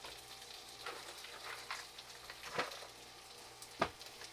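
Food frying in a pan while dinner is cooked in a cabin, a steady soft sizzle with occasional louder pops and crackles, fairly faint and close, no talking.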